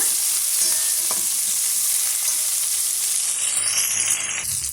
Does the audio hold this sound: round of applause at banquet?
no